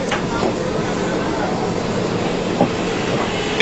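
A train passes on an Indian railway, a steady rolling rumble with faint clicks of wheels over rail joints and a brief sharper clank near the end.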